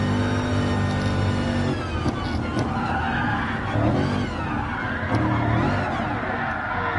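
A car drifting sideways on a tight, twisty track in Gran Turismo Sport, tires squealing in long sustained wails over a steady engine drone, loud and close, with no talk.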